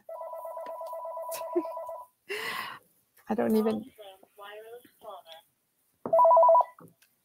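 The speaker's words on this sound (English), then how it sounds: "that's my phone ringing" A mobile phone rings loudly with a repeating electronic tone for about two seconds, then breaks in again briefly near the end, while a person speaks between the rings during an online talk.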